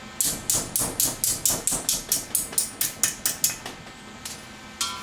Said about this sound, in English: I'm going to make the first bend on the anvil here